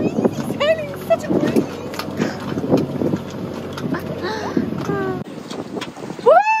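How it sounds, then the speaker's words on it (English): Sailboat running under sail in a steady breeze off Cabo de Palos, with continuous wind rush and water wash throughout, mingled with voices and a bright whoop near the end. "Oh, it's so easy sailing"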